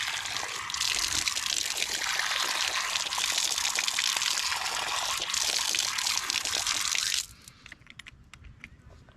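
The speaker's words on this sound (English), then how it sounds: "You can see how water flows." Water gushes steadily from a newly built water system at a home in Kenya, a loud, close rushing flow that cuts off abruptly near the end and leaves only faint drips and trickles.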